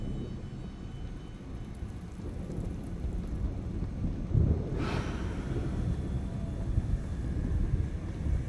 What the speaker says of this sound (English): Sounds as if a storm is brewing.